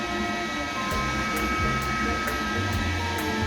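A doubled-up cooling fan runs with a loud, steady whooshing drone beside a newly built quasi-type class H MOSFET amplifier during a load test, unbroken and close by, with a voice briefly audible.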